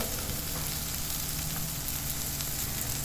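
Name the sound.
spiced vegetables roasting on a tava over high flame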